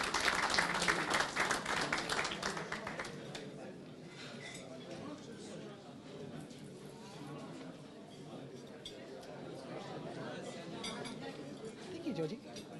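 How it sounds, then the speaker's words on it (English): Applause at a business council dinner event, a burst of clapping at the start that fades after a few seconds into room murmur with clinking glasses and cutlery. "Big round of applause for her."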